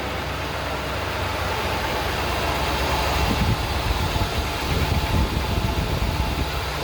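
A 1949 Buick Super's remanufactured GM 4.1-liter V8 runs at a steady, smooth idle close by, a continuous low rumble with no talking over it.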